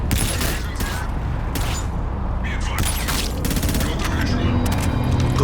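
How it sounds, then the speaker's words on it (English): Gunfire and headshot impacts from Call of Duty Infinite Warfare, a dense, continuous run of shots and combat noise throughout, with voices and game sounds mixed in. "you should hear the sound of the headshots and the combat in this game"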